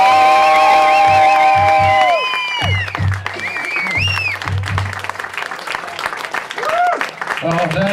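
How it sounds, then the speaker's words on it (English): Comedy club audience at the Comic Syndrome Comedy Club applauding and cheering a comedian, loud dense clapping with whoops under a voice talking over it, the crowd noise fading after a couple of seconds. "while we have this momentum of applause going"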